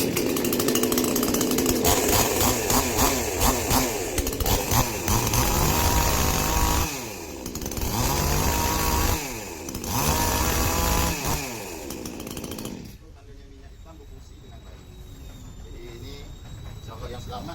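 A Hyundai 18-inch gasoline chainsaw revs loudly and close, its high buzzing engine surging and dipping in repeated bursts before settling to a lower rough idle, with speech mixed in.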